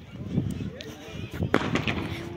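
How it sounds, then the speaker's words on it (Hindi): Firecrackers bursting at an outdoor Eid celebration in a hilly area, a few sharp pops rising out of a busy crowd murmur and voices, with one stronger crack near the middle. "यहाँ पर सब ईद मनाने के लिए आए हैं और पटाखे पटाखे फोड़ रहे हैं"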